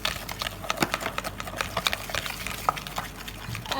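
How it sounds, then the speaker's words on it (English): A whisk beats ingredients together in a deep bowl, making a steady run of quick, light clicks and taps against the sides, close by with no talking. "Just gonna whisk these all together."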